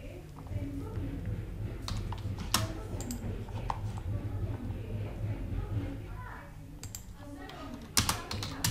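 Irregular clicking of keys on a computer keyboard as text is typed in, moderately close, with scattered louder keystrokes and a few busier bursts near the end.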